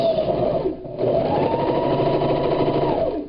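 A sewing machine stitches hair wefts with a fast, steady mechanical whir. It pauses briefly near the start, then runs continuously, close and loud.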